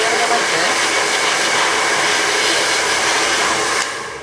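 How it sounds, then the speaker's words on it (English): A handheld blow dryer blows steadily and loudly for about four seconds, a broad continuous airy roar close to the mic that eases slightly at the very end. "Take your blow dryer."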